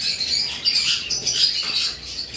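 A pair of sea green peach-faced lovebirds chirps close by in a bird shop, with rapid high-pitched tweets and chatter running continuously and fairly loud, with no voices over it.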